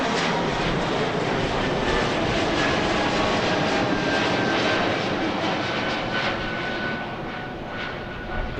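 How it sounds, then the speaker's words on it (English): An Airbus A220 jet taking off at Amsterdam Airport, a loud sustained engine roar with broad rushing noise and a faint steady whine, holding strong and easing slightly toward the end, heard without voices. "Very early takeoff from this small A220."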